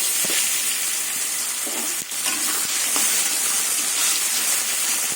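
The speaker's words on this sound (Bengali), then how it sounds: "এই তেলেই মাশরুমগুলো ভেজে নেব" Mushrooms fry in hot oil left over from frying capsicum and beans, giving a loud, steady, close sizzle with a few light clicks of stirring across the whole stretch.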